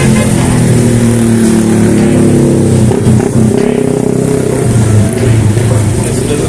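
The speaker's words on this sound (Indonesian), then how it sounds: "Sini ada kendaraan yang lewat." A motor vehicle, car or motorbike, passes close by on a busy night street in Glodok, Jakarta, its engine loud and revving steadily throughout with a constant roar of traffic behind it.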